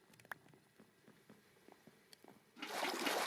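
Minecraft bucket filling with water: after scattered faint clicks and taps, a sudden broad watery whoosh bursts in near the end and carries on loudly, no speech heard.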